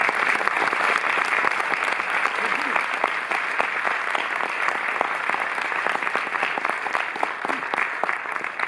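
A cinema hall audience gives sustained applause at a film retrospective opening, dense and even throughout with a murmur of voices underneath.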